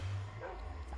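Two dogs barking in the video game Monkey Mines, a short burst of yipping woofs heard close and fairly loud over a low steady game hum.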